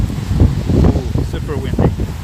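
Gusty wind buffets the microphone on a rainy night street in Setagaya, Tokyo, a steady low rumble that swells and dips, with a voice murmuring over it.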